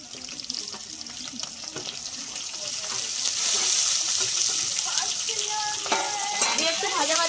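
Diced tomato, capsicum and onion sizzle steadily in hot oil for chilli chicken, a dense continuous frying hiss that swells partway through, with scattered stirring clinks and scrapes.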